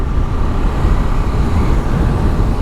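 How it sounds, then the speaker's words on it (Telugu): Dense traffic jam packed mostly with trucks on a mountain highway on a ride toward Ladakh, heard as a steady loud wash of idling engines and road rumble close by, continuous with no pauses and no speech. "ట్రాఫిక్ జామ్ అయిపోయింది ఫుల్"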